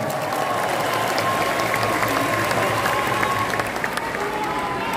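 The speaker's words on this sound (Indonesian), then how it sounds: "Tepuk tangan untuk para pejuang reformasi kita." A large crowd of volunteers at a rally marking 25 years of Indonesian reform applauds loudly and steadily, dense clapping with some cheering throughout and no speech on top.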